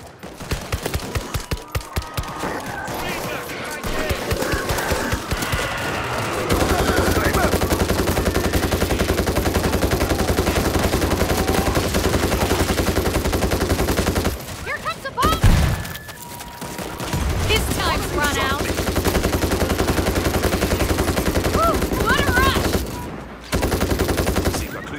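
Sustained machine-gun fire in the video game World War Z, set in Rome, rattling on loud and almost unbroken for long stretches with a few brief pauses and explosive thumps, under faint game voices.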